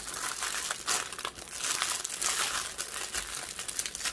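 Plastic bag crumpled and pressed down while unboxing a diamond painting kit, a loud continuous crinkling with sharp crackles throughout, close up with no talking.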